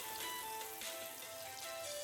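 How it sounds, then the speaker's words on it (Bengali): Continuous sizzling of eggplant pieces frying lightly in oil, a close, even crackle that carries on without pause or talk. "হালকা করে একটু বেগুনগুলো ভেজে নিতে হবে"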